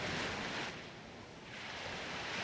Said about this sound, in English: The periodic sound of the waves slows us down.